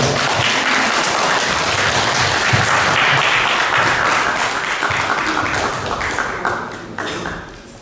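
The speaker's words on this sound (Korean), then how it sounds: "김병호 소장님 큰 박수로 모시겠습니다" Lecture-hall audience applauding to welcome a history textbook researcher to the stage, dense sustained clapping that tapers off toward the end.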